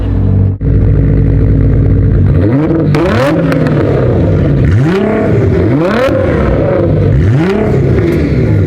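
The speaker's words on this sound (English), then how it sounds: "On my signal, give me a rev." A Nissan GT-R revving hard beside the road in Hawaii, loud and close, with repeated rising and falling engine sweeps in quick succession over a steady idle rumble.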